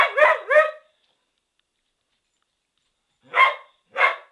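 A dog barking at a cat: a quick pair of loud barks, a long silent pause, then two more separate barks, close by.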